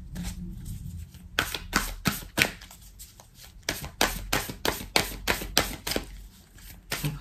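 A deck of Starseed Oracle cards being shuffled by hand, close and crisp: about a dozen rhythmic riffling bursts in quick succession after a quiet start.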